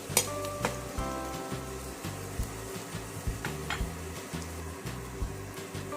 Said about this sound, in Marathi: कांद्याला लालसर कलर येईपर्यंत परतवू